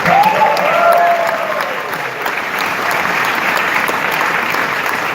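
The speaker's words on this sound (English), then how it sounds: "Can we first just clap it up here for Gary and Veecon?" A large conference audience applauds loudly and continuously, with a brief whistle or whoop rising early on amid the dense clapping.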